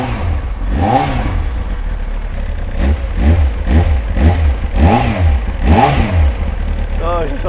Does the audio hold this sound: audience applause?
no